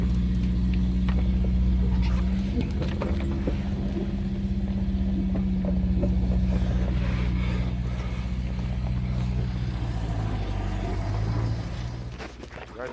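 A car pulling away once its handbrake is released, a steady low engine rumble close up and fairly loud, with faint knocks and scuffs over it that ease off toward the end.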